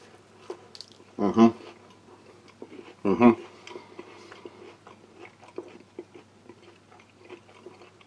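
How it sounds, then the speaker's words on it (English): Two loud, crisp crunches of a cheese cracker topped with tuna from a 2013 British Army ration pack being bitten, about two seconds apart, with quieter chewing and small mouth sounds in between. "Try some on the biscuit there, the cheese cracker."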